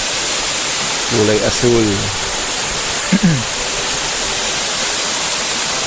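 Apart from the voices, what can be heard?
Batlag Falls waterfall rushing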